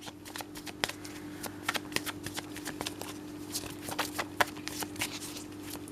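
Tarot cards shuffled by hand in a run of crisp, rapid riffles and slaps, close and fairly steady with brief sharper flicks, alone with no talking.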